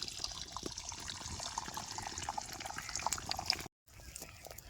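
Two eggs fry in hot oil in a wok, giving a steady, close hiss of sizzling with faint crackles and a momentary break near the end.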